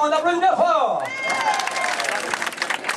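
An audience at a country and bike rock festival dance lesson breaks into applause and cheering after a voice trails off. The clapping builds into a steady, dense patter that fills the rest of the clip.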